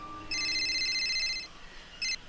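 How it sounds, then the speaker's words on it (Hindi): An incoming call on a phone rings in two electronic bursts, a longer trill followed after a pause by a shorter one, fairly faint against a quiet background. "तभी मनीषा जी को उनकी दोस्त नंदिता का फोन आया।"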